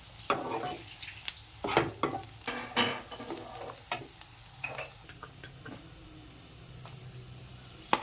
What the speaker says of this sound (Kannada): ಅದನ್ನು ಸ್ವಲ್ಪ ಹೊತ್ತು ಎಣ್ಣೆಯಲ್ಲಿ ಫ್ರೈ ಮಾಡ್ಕೊಳ್ಳಿ